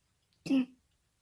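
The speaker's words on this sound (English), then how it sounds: "Sorry, coughing fit" One brief, rough cough or throat clear, close and fairly loud, in an otherwise quiet room.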